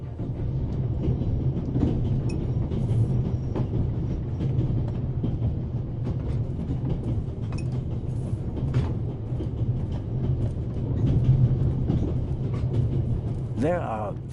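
Steady rumble and rattle of a passenger train running in The Raven: Legacy of a Master Thief, a continuous low drone with faint creaks and clicks throughout, with speech over it.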